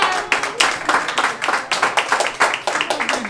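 A small audience at an anniversary talk show claps for a departing guest, with a close, steady patter of hand claps running without a break and a few faint voices underneath.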